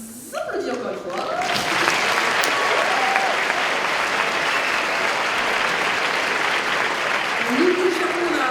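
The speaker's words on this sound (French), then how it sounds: "On les applaudit encore une fois." Sustained applause from an audience at a cosplay contest at the Polymanga convention, rising quickly and holding loud and even, with a voice speaking over the start and end of the clapping.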